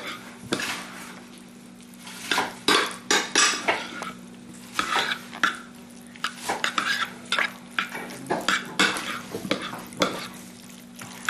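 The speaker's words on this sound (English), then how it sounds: "we're going to do the mixing." Utensil stirring and scraping a dish of food mixture with fresh squeezed garlic, a series of close, irregular clinks and scrapes against the dish, no talking.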